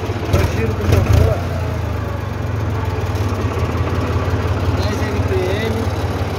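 A Valtra Valmet tractor idles in the northeastern Brazilian backcountry, its engine giving a steady, close low rumble with a slightly louder burst near the start, while someone talks over it.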